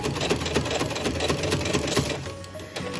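Sewing machine running steadily while stitching binding onto a small self-bound baby quilt, a close, continuous rapid mechanical whir with fast rhythmic needle clatter that eases slightly near the end.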